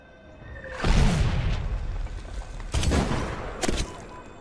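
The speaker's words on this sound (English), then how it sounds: "Mortar inbound." Mortar strikes land in a sniper video game at night, two heavy booming blasts with a rumbling tail and a sharp crack near the end, loud and close.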